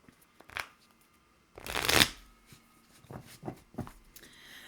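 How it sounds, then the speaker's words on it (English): Tarot cards being shuffled by hand, a loud riffling burst in the middle followed by several shorter, softer card taps and slides, close and with no talking. "So let me put those back and we will get out tarot now."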